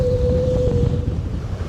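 Wind gusting across a Scottish beach while sea fishing, a steady buffeting rush on the microphone with a low roar of surf beneath, close and fairly loud.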